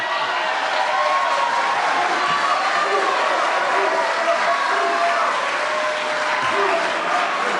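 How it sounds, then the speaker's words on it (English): Sustained applause from a seated audience at a congressional district candidate forum, a steady dense wash of clapping filling the room, loud and continuous throughout with no pauses. "you can now officially applaud and show your signs of approval"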